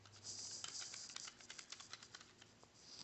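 A homemade typewriter built from Lego bricks clicks along in quick, uneven keystrokes, each a light plastic tap with a faint rattle, quiet and close, with no voices.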